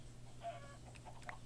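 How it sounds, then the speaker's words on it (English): Chickens clucking in the video game Minecraft: a soft, faint cluck or two, with one brief sharper cluck near the end over a low steady hum. "Chickens, chickens, chickens, chickens."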